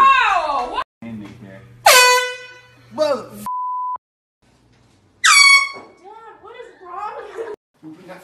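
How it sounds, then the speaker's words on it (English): Loud air horn blasts go off in a prank, several sharp bursts with a steady tone between them, mixed with shrieks, gasping and laughter from people. "I miss the air horn pranks."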